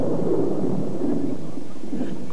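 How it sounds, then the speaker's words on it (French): Thunder from a cartoon storm rolls as a loud, continuous low rumble with swelling surges and no talk over it. "ça va être encore pire avec l'orage"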